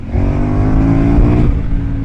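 Motorcycle on Metzeler Karoo 4 tires in wet weather, its engine droning loud and close with shifting harmonic tones as it downshifts to third, road and wind noise steady underneath.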